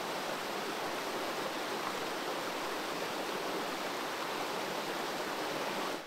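Water runs steadily from an outdoor tap at a roadside stop in Greece, a constant even rushing hiss with no pauses, heard close and alone.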